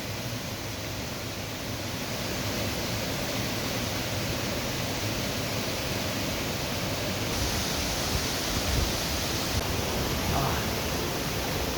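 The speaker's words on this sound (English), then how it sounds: "man, that waterfall is just awesome" Waterfall along the Salmon Creek Trail in Big Sur, a steady broadband roar of rushing water that holds an even level throughout the clip with no breaks.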